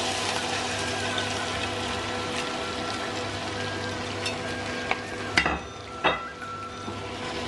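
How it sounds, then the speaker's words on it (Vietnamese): Marinated shrimp and pork fry in caramel inside a clay pot, giving a steady close sizzle with a few sharp clinks and scrapes of stirring near the end. "sau đó mình sẽ cho tôm và thịt đã ướp vào đây"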